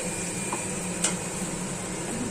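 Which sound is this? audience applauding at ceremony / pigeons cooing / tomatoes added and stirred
tomatoes added and stirred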